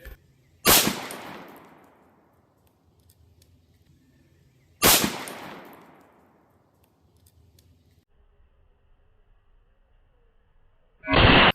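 Two loud revolver shots fired into concrete blocks, each a sharp crack with a long decaying tail several seconds apart, followed by a third abrupt burst at the very end; no talk.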